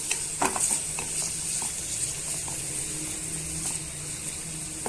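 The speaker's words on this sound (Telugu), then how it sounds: "ఉల్లిపాయ ముక్కల్లో పచ్చిమిరపకాయ ముక్కల్లో పచ్చివాసన పోయేంత వరకు వేయించుకోండి" Chopped onion and green chillies fry in a pan over medium-low heat with a close, steady sizzle and crackle, broken by a few light stirring scrapes, with no voices.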